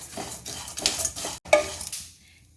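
White sesame seeds tipped into a roasting pan and stirred for a protein energy bar: close scraping and rattling of utensil against pan in short irregular strokes, with a faint dry sizzle, a brief pause, then fading.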